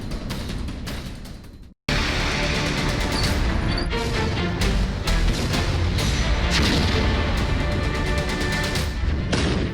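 A Russian T-72B tank destroyed in a blast, heard as loud, dense booming and crackling rumble with a brief dropout near the start, then sustained roaring blasts and sharp cracks throughout.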